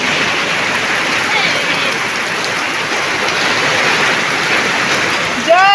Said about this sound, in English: This rain, the rain is very dirty.